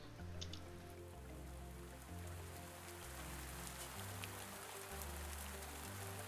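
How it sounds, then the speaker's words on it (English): Soft, steady rain patter plays as ambient weather in the Factory Magnate factory-builder game, faint and continuous beneath a low looping musical drone. "Then we got rain effects."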